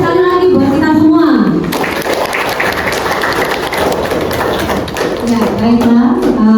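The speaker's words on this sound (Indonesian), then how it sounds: "beri tepuk sekali lagi buat kita semua" Applause from a teacher and students in a classroom, a steady crackle of clapping hands mixed with voices speaking over it, loud and close throughout.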